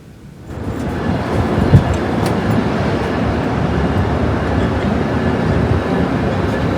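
An Amtrak train at a station platform on a sunny day gives a loud, steady rumble and rolling rail noise that rises quickly after a brief quiet start and carries on continuously, with one sharp clank near the start.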